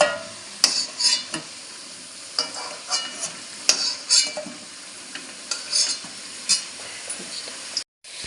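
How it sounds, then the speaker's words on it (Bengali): Potatoes fry in hot oil in a pan with a steady sizzle, broken by repeated close scrapes and clinks from stirring, with no talking. "এই যে আলু ভাজা হচ্ছে"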